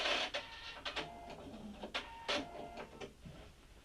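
A sewing machine runs a few short stitch bursts in place, securing a seam on a four-panel welding cap, giving quiet mechanical whirs and clicks separated by brief pauses.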